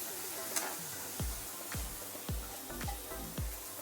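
Fish and brinjal sauté in a pan with chopped tomato and salt, a steady sizzle broken by regular scraping stirs about every half second, close and moderately loud.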